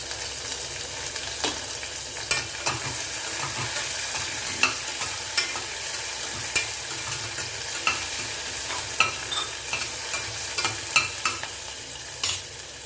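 Onions and green chillies being stirred and fried in a pan for a tender-coconut tomato rice, a steady sizzle with repeated scraping strokes of the spoon at an irregular pace, close up and without talk.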